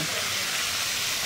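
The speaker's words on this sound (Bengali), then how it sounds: "ক্যাপসিকাম গাজর ভাজছে" Capsicum and carrot fry in a pan with a steady, close sizzle and a hiss that holds evenly without a break.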